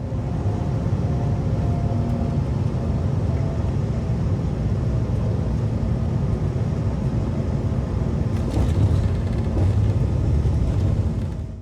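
Steady broadband cabin roar inside a German Airways Embraer E190 airliner descending towards Bremen, a continuous loud engine and airflow drone with a low hum, with no one talking.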